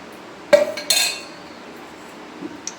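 A metal cooking pot is set onto a village stove while tamarind rice is being prepared, giving two sharp clanks and a brief metallic ring, then a faint clink in a quiet kitchen.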